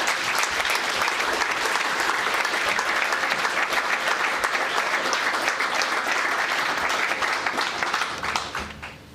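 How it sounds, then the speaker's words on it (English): An awards ceremony audience applauds in a sustained, dense wash of clapping that holds steady for several seconds before tapering off near the end. "Please give a large round of applause"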